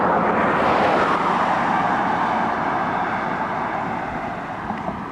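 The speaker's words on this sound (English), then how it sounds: "There's a hell of a lot more traffic today than there was yesterday." Road traffic passes in a continuous hiss and rumble of vehicles, strongest at the start and easing gradually, with a couple of faint knocks near the end and no talking.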